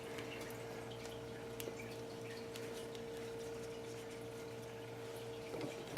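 Water poured into lettuce, kale, cabbage or onion seedling pots in a zone 9 fall garden, a soft steady trickle and patter with a few faint drips, close and quiet, no talking.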